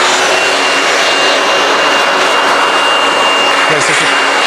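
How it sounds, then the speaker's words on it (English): A loud, steady leaf blower roar runs throughout, a constant airy rush with no breaks, close to the listener, used to dry a washed motorbike. "I haven't got a bike dryer, so I'm going to use a leaf blower."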